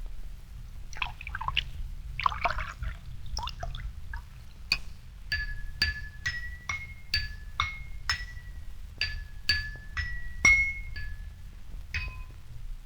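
Water trickles and pours into drinking glasses filled to different levels, each fill giving a rising ringing tone, a series of bright pitched pours one after another.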